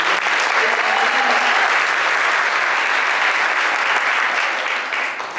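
A lecture audience at a swine-farming talk gives a dense burst of applause right after the presentation ends, loud and sustained before fading slightly at the close.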